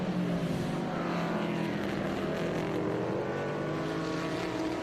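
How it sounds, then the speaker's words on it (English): The Trackhouse Camaro race car at Road America, heard from on board as it climbs the hill toward turns 5 and 6, gives a steady, loud engine drone that holds throughout. "So Justin Marks heading up the hill again and down towards turn 5 and 6 as we go back on board with the Trackhouse on board."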